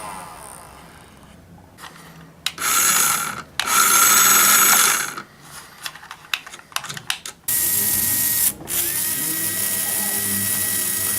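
A small 1.5-volt motor in a mechanical Halloween prop whirs with a high, buzzing whine, starting and stopping in loud bursts between quieter mechanical clicking and rattling.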